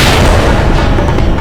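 A loud explosion blast in a historical drama about Maharana Pratap and the Mughals, a dense booming roar filling the whole moment with no voice.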